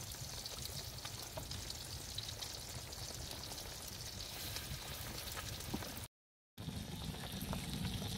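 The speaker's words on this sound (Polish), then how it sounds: "No i już ostatnia porcja się smaży." The last portion of food fries in a pan at a spring campsite, a soft continuous crackle and sizzle heard close, briefly cutting out near the end.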